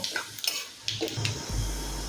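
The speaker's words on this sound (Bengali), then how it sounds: "তেল গরম হয়ে গিয়েছে, এখন ফোড়নে দেবো রাঁধুনি আর শুকনো লঙ্কা, সাথে দেবো তেজপাতা। ফোড়নটা একটু ভেজে নেব।" Radhuni seeds, dried red chillies and bay leaves tempering in hot mustard oil for thin masoor dal, with a steady low sizzle and a few light utensil clinks and stirring scrapes.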